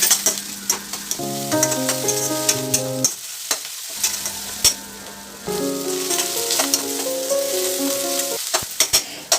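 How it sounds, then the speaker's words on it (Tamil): Onions sauté with crushed ginger and garlic in a pan for senai kilangu (yam) varuval, a continuous sizzle punctuated by sharp stirring clacks, with background music playing throughout. "இஞ்சி பூண்டு இடித்து எடுத்து வச்சுருக்கோம் அதை இதில் சேர்த்துக்கலாம் வெங்காயம் கூட சேர்த்து வதக்க வதக்கி விட்டுறலாம்"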